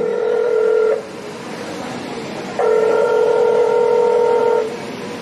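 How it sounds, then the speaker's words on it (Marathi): Telephone dialing tones come in two steady beeping stretches, a short one and then a longer one after a pause, loud and close over a low background hum, with no voices. "अरे, केशवचा फोन लागला."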